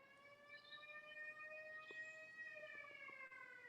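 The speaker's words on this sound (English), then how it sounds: "No idea why there's a siren going off." A distant siren wails with a steady, slowly bending tone, faint and continuous, over quiet outdoor ambience at Ryton Willows wildlife site.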